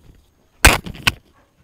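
A pair of sharp gunshot bursts from a weapon at the shooting range in the video game Rogue Company, close and loud, the second shot a beat after the first, then silence.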